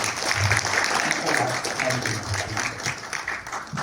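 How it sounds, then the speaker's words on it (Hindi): Awards-ceremony audience claps in a steady, moderately loud patter, with a voice talking over the applause throughout. "जोरदार तालियां हो जाए मैम के लिए।"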